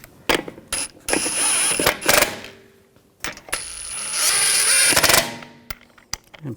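A hand ratchet snugs wheel lug bolts on a 2007-2013 BMW 328i, giving two long runs of rapid metallic clicking close by, separated and followed by a few sharp clanks, with no talking.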